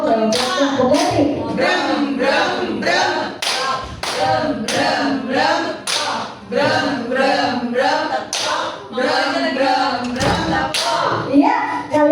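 Children in a classroom repeating a clapping game, steady patterned hand claps and taps in a driving rhythm, with kids singing and chanting along, loud and close.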